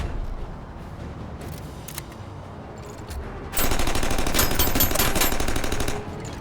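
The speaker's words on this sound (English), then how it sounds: "Then we got the machine gun." Rapid machine gun fire in a sci-fi noir video game, a dense, loud burst of rapid shots that starts suddenly midway and runs for about two and a half seconds over a steady background of game ambience.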